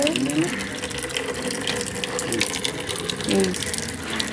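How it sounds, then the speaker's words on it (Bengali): An outdoor garden tap runs steadily, a continuous close splashing hiss of water throughout, with faint background noises mixed in. "কল, কল দিয়ে জল পড়ছে"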